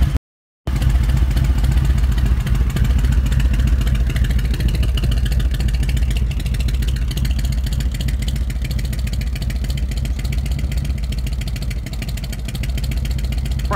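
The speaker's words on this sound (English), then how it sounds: "It's got that choppy lope cam sound to it. I just love the way it sounds, especially out of these bone shakers." A 2017 Harley-Davidson Street Glide fitted with Bassani head pipes and SVT Boneshaker mufflers idles with a choppy, loping cam rhythm, a deep steady rumble heard from some distance after a brief silent gap at the start.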